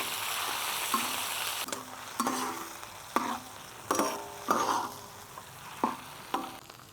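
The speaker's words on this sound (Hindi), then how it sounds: "अब इन प्याज को जो है ना वो हमने लाइट गोल्डन सा करना है, अच्छी तरह से हमने इनको फ्राई करना है" Chopped onions frying in oil in a pan for a mixed tawa vegetable dish, a soft steady sizzle broken by several sharp scraping stirs, close and alone with no talk.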